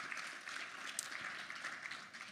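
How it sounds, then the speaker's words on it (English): Faint audience applause at the CANTO 2024 conference in Miami, an even patter of many hands clapping at a distance for a couple of seconds, no voices. "Another round of applause for Melanie Blake."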